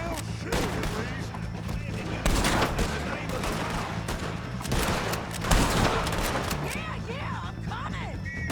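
Dense gunfire from a Red Dead Redemption 2 shootout, with rapid overlapping shots that roll on without a break, loud and continuous, and voices faintly underneath.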